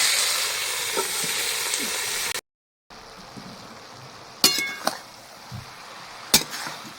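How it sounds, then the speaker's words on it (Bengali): Cabbage being stirred in a hot pan with turmeric and salt, a steady sizzling fry that cuts out briefly, then resumes with a few sharper scraping clinks of the utensil. "বাঁধাকপিটা একটু নাড়িয়ে দেব"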